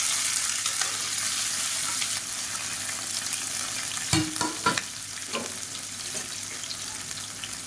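Two large onions, sliced lengthwise, sizzle and fry in hot oil inside a pressure cooker, a steady close frying hiss with occasional stirring scrapes and clatter from about four seconds on, no talk.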